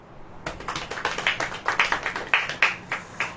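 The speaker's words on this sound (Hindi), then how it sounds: "ताली बजाइए।" An audience at a church sermon breaks into hand clapping that starts suddenly and continues as a steady, moderately loud patter of individual claps for about three seconds, without talk over it.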